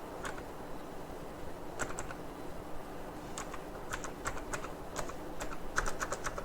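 Keys tapped on a computer keyboard while entering a date in an Excel spreadsheet, a quiet irregular run of light clicks with short pauses and a quicker cluster toward the end.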